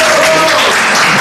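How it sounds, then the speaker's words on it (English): Audience clapping at a Toastmasters area contest, a dense continuous patter filling the short moment at close range, with a voice speaking over it. "thank you for clapping first"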